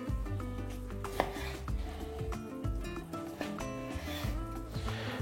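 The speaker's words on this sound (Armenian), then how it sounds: "կտրատում ենք ավելի մանր" Beef being finely chopped for a salad on a cutting board, a steady run of close knife strikes with a soft background hum.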